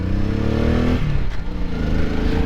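A 2001 Honda Shadow Sabre motorcycle engine revs up close and loud, rising in pitch as it accelerates, then dips briefly and climbs again.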